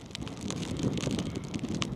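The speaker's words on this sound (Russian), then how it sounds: "Ветер такой холодный." Cold, strong wind in a snowy village in the Voronezh region buffets the microphone in a steady, rough rumble with gusty rustling for two seconds.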